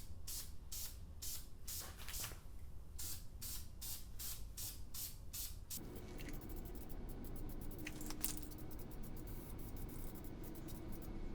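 Aerosol spray paint going onto a stripped LS engine block in a Chevelle turbo build, a series of short, quiet hissing bursts at first, then one longer continuous spray.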